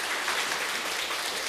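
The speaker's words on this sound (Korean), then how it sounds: "박수 한번 쳐주시죠" A congregation claps together during a Sunday morning church service, a steady, even wash of applause from many hands, moderately distant and without talk over it.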